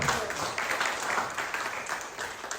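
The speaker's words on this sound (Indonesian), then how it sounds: "tepuk tangan untuk Tuhan" Church congregation clapping during a sermon, a moderate, fairly faint patter of many hands that rises and falls unevenly across the short stretch, with no distinct voices above it.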